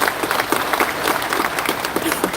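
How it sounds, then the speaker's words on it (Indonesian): Loud, steady applause from a large audience at a national political conference gathering, dense clapping that holds throughout with no letup and no voices above it. "kita beri tepuk tangan untuk mereka."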